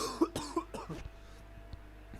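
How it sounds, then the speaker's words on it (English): A commentator with a dry, sore throat coughs several times in quick succession, close and sharp, then falls quiet with only faint room hum remaining. "I'm going to have to cough."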